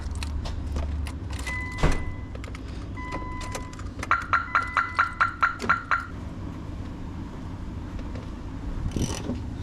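Keys jangle and clink in a short rattling burst while someone works on the wheel of a Nissan Skyline during a front bar install, with a run of about eight rhythmic metallic ticks midway, no talking.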